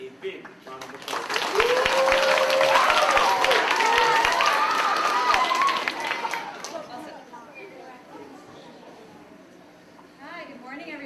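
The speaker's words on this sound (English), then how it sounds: "Let's give her and her students a big round of applause" A school assembly audience of fourth graders and adults gives a big round of applause for a teacher and her students. The dense clapping swells, holds for several seconds, then fades into quiet murmuring and movement.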